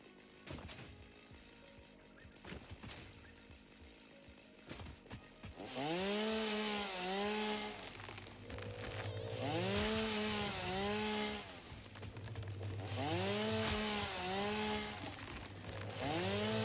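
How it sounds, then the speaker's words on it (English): A chainsaw in a video game sputters, then roars to life and runs loudly, its engine pitch rising and falling in repeated revving surges over a low idle. "Really wish the chainsaw could run off of non-biofuel."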